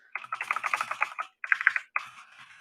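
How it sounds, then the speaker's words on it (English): Rapid clicky keystrokes on a mechanical keyboard, close and crisp, in two quick bursts separated by short pauses. "you will hear my clickety-click mechanical keyboard sounding here while I try to list these down"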